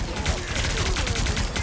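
Video game gunfire, rapid dense bursts of shots rattling continuously and loudly with a busy game mix of effects underneath, no clear talk.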